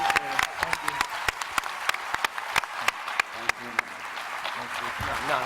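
Audience applause at a TwitchCon 2015 live show, a dense crowd clapping steadily for several seconds with sharp individual claps standing out and voices mixed in.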